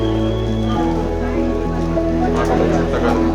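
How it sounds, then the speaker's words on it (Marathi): Rain falls steadily outside the Trimbakeshwar temple, a continuous broad hiss with a low hum and faint crowd murmur underneath throughout. "पाऊस अजून पण सुरूच आहे"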